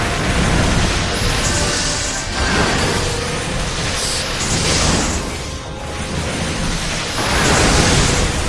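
A fire spell cast in Final Fantasy XIV produces a roaring, broadband whooshing burst that swells and fades in several waves, loud and continuous throughout with no talk.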